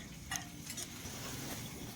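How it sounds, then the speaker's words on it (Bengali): Garlic and green chilli fry in oil with a steady, moderately loud sizzle, broken by a few brief scrapes of a utensil against the pan in the first second. "এখন এই রসুন কাঁচা লঙ্কাকে ভালো করে একটু ভেজে নেব।"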